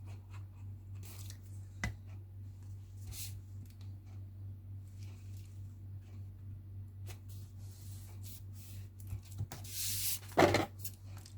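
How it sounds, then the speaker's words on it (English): Scissors trim a paper book-page pocket for a journal, giving a few faint, sparse snips and paper rustles, one crisper cut near the end, over a steady low electrical hum in a quiet room. "Just trim the back so that it matches."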